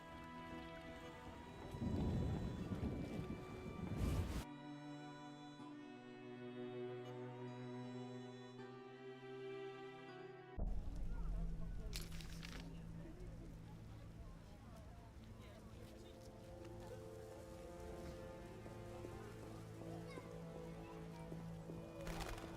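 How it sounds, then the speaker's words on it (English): Rain in The Witcher video game, a steady wash of falling rain with rumbling bursts, heard under stretches of music and a voice talking. "It's raining."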